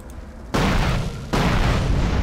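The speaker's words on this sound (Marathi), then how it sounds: "तुम्ही बॉम्ब ब्लास्ट पण बघणार ना गाईज, खतरनाक रिअल आहे" Bomb or missile explosions from the video game GTA San Andreas, with two sudden loud booms about a second apart, each followed by a heavy rumbling wash of noise.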